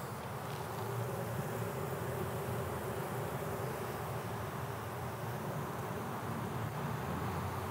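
Honeybees buzz continuously at an observation hive being installed, a dense, even drone from many insects close by that holds steady throughout without voices.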